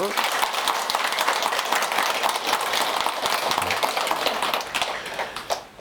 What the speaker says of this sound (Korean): 이분들에게 박수 한번 보내주세요.